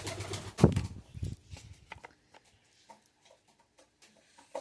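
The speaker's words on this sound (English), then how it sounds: "Looks like my doves are rising up too." Domestic doves flap their wings in a loud burst near the start, with a brief rustle just after, followed by scattered faint flutters and soft movements in a quiet outdoor setting.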